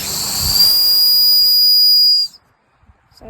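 A shrill whistle built into a flint and steel survival tool with a compass is blown once, loud and close, holding a steady piercing tone with breathy hiss for about two seconds before cutting off to near silence.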